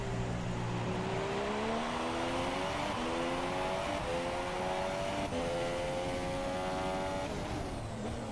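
Onboard engine of an F1 car in a racing game at Barcelona, a loud steady whine climbing in pitch through several gear changes, alone without talk.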